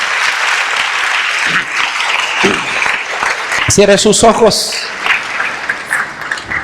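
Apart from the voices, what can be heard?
congregation clapping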